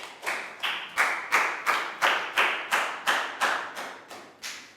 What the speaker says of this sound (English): Big round of applause for Bang Bon.